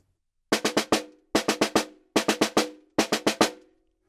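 Snare drum playing a skeleton rhythm for eighth-note rolls: four evenly spaced groups of four crisp strokes, close and clear, with short silences between the groups.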